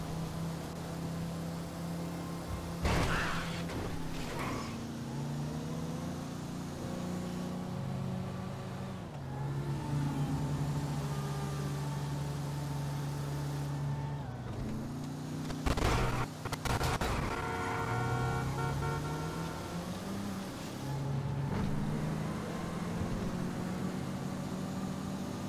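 Video game car engine revving and accelerating, with gear-shift drops and rising pitch sweeps, loud and continuous, alone with no talk.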